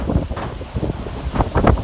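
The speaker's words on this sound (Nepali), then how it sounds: "हावाहुरी ठुलो आएर" Gusting windstorm in Chitwan, Nepal, with heavy bursts of wind buffeting the microphone and rustling through nearby surroundings, rising and falling in uneven surges, no voices.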